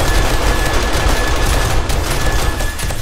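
Rapid automatic gunfire in the video game 7 Days to Die fills the scene, loud dense bursts of shots with no pauses, close and overwhelming.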